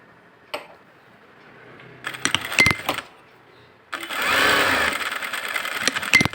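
A sewing machine stitching a blouse seam, with short clicking handling noises, then a steady whirring run of stitches, close and moderately loud, with no talking.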